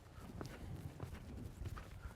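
Horse hooves clip-clopping in a steady trot during riding training, a continuous rhythmic run of thuds heard fairly close over dirt-floored arena noise.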